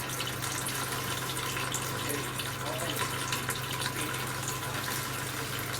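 Water rushing under high pressure inside a rain harvester tank after a fire, held back by a pump; a steady, even hiss and rush runs unbroken and fairly close throughout.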